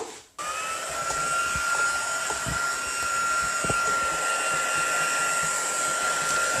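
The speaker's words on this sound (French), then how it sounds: "je vais prendre l'embosseur. Alors, ça va faire un peu de bruit, mais ça va vous permettre de sécher plus rapidement" An embossing heat tool blows continuously to dry craft work, a steady, fairly loud whooshing hum like a hair dryer that switches on sharply and runs without a break.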